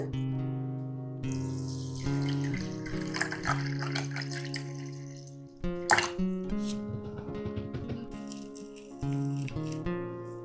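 Water pours from a tap over raw rice in a vessel for soaking, a running stream with rattling and clinking in the middle, close and steady.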